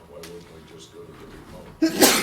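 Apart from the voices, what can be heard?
sneeze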